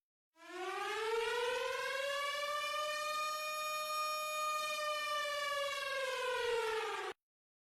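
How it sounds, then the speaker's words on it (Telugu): Air raid siren wailing in one long continuous tone that rises at the start, holds steady and loud for about seven seconds, then cuts off abruptly, with no other sounds. "ఫస్ట్ జరిగేది ఎయిర్ రైడ్ సైరన్స్ మోగుతాయి."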